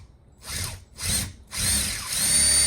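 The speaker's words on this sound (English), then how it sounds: "I'm just gonna try to drill it in." A power drill bores into a wooden desk in three bursts, two short whirring pulses and then a longer sustained run, close and fairly loud, with no talking.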